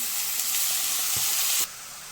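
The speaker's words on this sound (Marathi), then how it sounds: "भाजी आहे ती कांद्यामध्ये ढवळून घेतलेली आहे" Drumstick leaves are stirred into onions in a hot pan, with a steady close sizzle, faint scraping stir sounds, and an abrupt drop in the frying hiss near the end.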